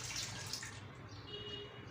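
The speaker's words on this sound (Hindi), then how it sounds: "सबसे पहले मैं इसमें ये पानी डालूंगी। मेरे पास 1 लीटर पानी है," About a litre of water is poured into a cooking pot for beef karahi, making a steady, quiet splashing rush that continues without a break.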